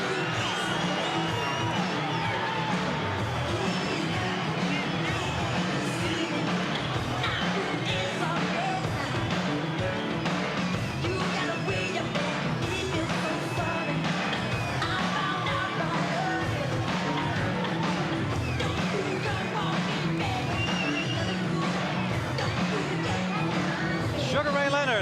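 A sellout boxing crowd in Las Vegas cheers and roars steadily, with shouts and whoops rising from a dense, continuous wall of noise, while an announcer talks over it.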